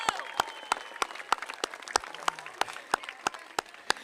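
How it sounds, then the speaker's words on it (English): An audience at a Toronto Raptors and Buffalo Bills partnership press conference applauds young people. Sharp, evenly spaced claps stand out close by over a softer crowd applause, keeping a steady rhythm with no speech over it. "Would you give the loudest round of applause to our young people?"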